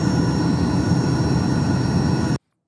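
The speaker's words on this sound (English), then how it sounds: "Yeah, just an engine noise." Steady drone of a small propeller plane's engine played from a YouTube video, loud and continuous with a low rumble and a high whine, cutting off abruptly near the end.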